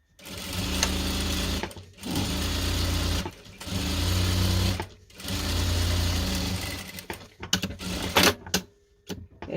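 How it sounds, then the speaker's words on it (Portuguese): A sensitive sewing machine stitches a fabric bag in several steady, whirring runs of a few seconds each, close by, ending in short stops and clicks from trimming and repositioning. "agora aqui eu já vou fazer uma costurinha de segurança em toda a volta"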